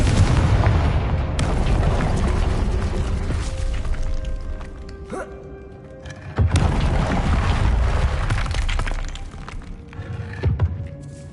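A Confringo fire spell explosion in the PS5 game Hogwarts Legacy, heavy booming blasts with rumbling tails, two big loud bursts separated by a quieter stretch, with no voices over them.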